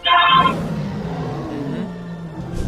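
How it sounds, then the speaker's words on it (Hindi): Cinematic edited lion roar as heard in movies, a loud layered burst with a bright harsh onset that fades into a long low rumbling growl, heard alone without talk. "जैसे ही शेर दहाड़ता है तो मूवीज में हमें उसकी आवाज ऐसे सुनाते हैं।"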